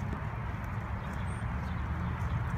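A horse steps steadily on an arena surface during early spin training, its hoof falls forming a continuous, moderately loud shuffling rhythm with no voices over it.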